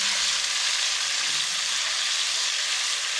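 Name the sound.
chopped onion frying until brown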